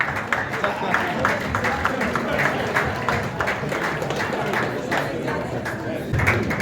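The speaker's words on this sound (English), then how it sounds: "Please give me a round of applause." A summit audience applauds, dense clapping spreading through the room at a steady level while voices carry faintly underneath.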